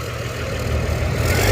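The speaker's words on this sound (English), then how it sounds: "So we're just going to move the old tractor" An old tractor engine running steadily at low revs as it is moved, a close, even rumble that grows slightly louder toward the end, with no talking.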